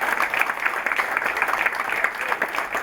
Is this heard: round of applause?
yes